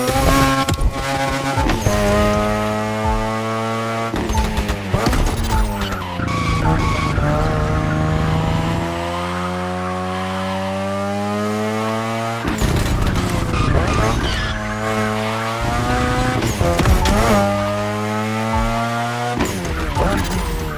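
Ferrari race cars in The Crew Motorfest racing video game, with engines roaring and revving up and down and tires squealing in repeated skids, while a narrator talks over the driving throughout.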